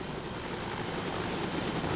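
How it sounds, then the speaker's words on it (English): Lifestar medical helicopter flying, a steady broadband rotor and engine roar throughout, constant and fairly loud with no voices. "She was taken by Lifestar helicopter 120 miles to the University of Tennessee Hospital"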